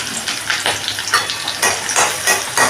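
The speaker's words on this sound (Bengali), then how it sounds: "দিয়ে এটাকে আমি একটু ভাজা করে নেব।" Onion and green chilli frying in mustard oil for a Bengali shapla and prawn dish give a steady, close sizzle, broken by repeated scraping stir strokes about every half second.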